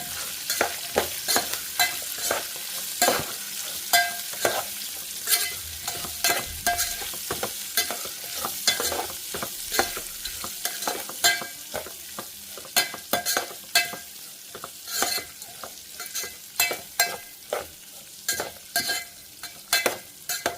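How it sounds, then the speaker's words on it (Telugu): Chopped onions added to a pan of frying bitter gourd for a curry and stirred, with a continuous sizzle broken by repeated sharp spatula scrapes and taps against the pan for about twenty seconds and no talking. "ఇప్పుడు మనం ఆనియన్స్ వేసేసుకోవాలి ఒకసారి కలిపేసుకొని"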